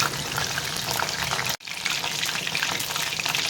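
Chicken leg pieces, freshly flipped, fry in hot oil with a steady, close hiss and crackle that continues without a break except for one brief dropout midway.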